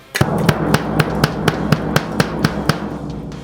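An 18-inch Rototom drum is struck by a bass drum pedal in a steady run of about a dozen evenly spaced, sharp thuds with a bright, slappy attack. It is close and loud, and no one talks.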